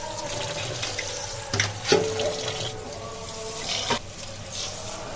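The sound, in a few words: washing rice under running water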